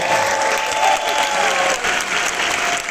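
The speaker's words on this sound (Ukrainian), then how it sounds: "Оплески!" Audience applause fills a charity auction hall right after a lot is sold, a dense steady clapping from a crowd that holds at full strength throughout.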